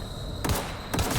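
Gunfire rings out during a video game. Two loud, dense bursts of shooting crash in about half a second apart, each a sharp broadband blast with a rumbling tail over constant game noise.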